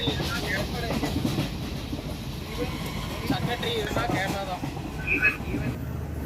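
A train rumbles along the rails on the Colombo to Kandy line in Sri Lanka, a continuous rattling clatter inside the carriage with occasional squeals and people talking under it.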